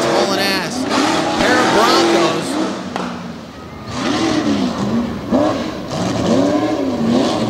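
A blue Ford truck races hard at a Tough Trucks Challenge qualifying session in Bloomsburg, PA, its engine revving and surging loudly in repeated bursts as it passes, with a commentator talking over it.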